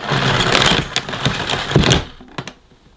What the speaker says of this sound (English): Let's rewind the cable and then we'll finish this little video on this quite rare vacuum cleaner